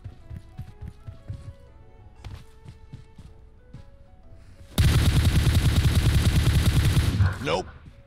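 Gunfire in PUBG Mobile: scattered shots early on, then a loud, sustained burst of rapid automatic fire lasting a few seconds before cutting off, with players talking over it.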